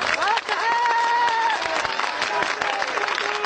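Crowd applause at a Hindi-language political rally for Priyanka Gandhi, dense clapping filling the space with voices and shouts mixed in throughout.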